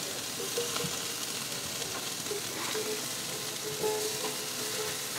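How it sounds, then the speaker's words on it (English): Pork ribs sear with a steady, close sizzle and crackle while getting grill marks, the frying hiss continuous for a few seconds with no voices over it. "just get some good grill marks on there"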